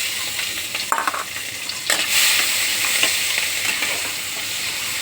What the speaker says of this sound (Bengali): রসুন ভেজে যে শাকটা আমি বসিয়ে দিয়েছি